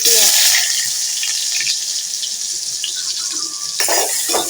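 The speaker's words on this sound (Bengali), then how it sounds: "পেঁয়াজটাকে নাড়াচাড়া দিয়ে ভেজে নিচ্ছি" Onion frying in a pan while being stirred makes a bright, close, steady sizzle, with light scraping and clinks from the stirring throughout.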